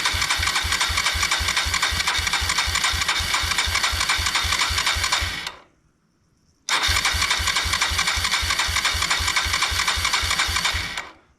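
A 1999 Suzuki DR200 motorcycle engine is cranked with the choke out, a loud, fast, even chugging of the starter that runs for several seconds, breaks off into a short silence, then starts up again.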